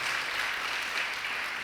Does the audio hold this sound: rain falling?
no